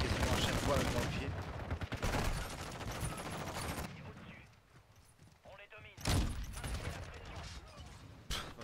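Intervention sniper rifle fire in Call of Duty Modern Warfare 2, loud sharp shots with echoing tails and busy game effects, a voice talking over parts of it.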